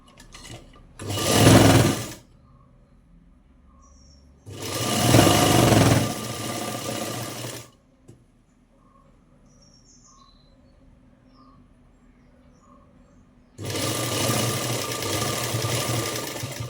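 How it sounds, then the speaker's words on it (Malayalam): Electric sewing machine stitching the edge of a puff sleeve, running in three loud bursts of steady motor whir separated by quiet pauses, no talk. "നമ്മൾ അറ്റം സ്റ്റിച്ച് ചെയ്ത് കൊടുക്കുക"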